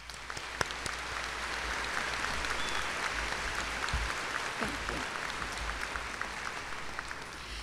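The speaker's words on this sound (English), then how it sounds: "Can we please give them a round of applause?" Sustained audience applause fills a high school graduation ceremony in White Bear Lake, a dense, steady wash of many hands clapping at moderate level, with a few sharper claps standing out near the start.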